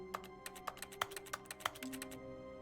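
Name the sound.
clicking sound in The Stanley Parable video game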